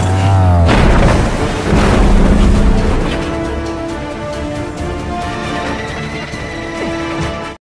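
A deep, loud boom from an explosion in an action film opens the scene, followed by a rumbling roar and dramatic swelling music that gradually fades off.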